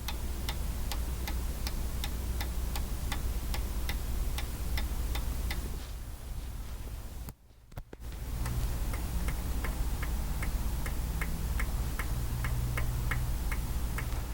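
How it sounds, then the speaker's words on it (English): A rebound adjuster on a bagger motorcycle's street drag shock is turned, giving a string of crisp, evenly spaced clicks, a brief quiet gap midway, then more clicks in the same steady rhythm. "I'm going to pull the rebound out of it, about 15 clicks"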